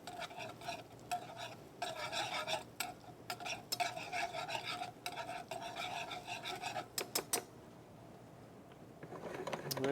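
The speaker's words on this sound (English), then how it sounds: "Now the butter itself is beginning to melt. As you see, it's nice and hot in the pan." Butter melting in a hot pan gives a steady, close sizzle with brisk stirring and scraping over it, running almost continuously before tapering off near the end.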